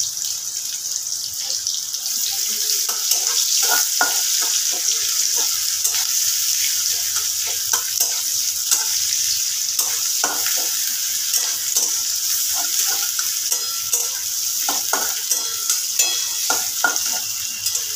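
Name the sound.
onion frying in a pan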